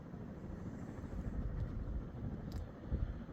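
A brand-new Litex Piedmont 52-inch ceiling fan runs at about 180 RPM with a slight wobble, giving a steady, soft broadband whoosh of moving air with a faint low rumble and no voices.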